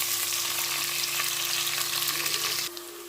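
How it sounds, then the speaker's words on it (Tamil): A ground onion and green chili paste sizzles steadily in a hot pan as it cooks for chicken biryani. The frying is loud and close with no voices, then drops slightly in level near the end. "வெங்காயம், பச்சை மிளகா அரைச்சி வச்சுருக்கேன். நல்லா போட்டு வதக்கலாம்."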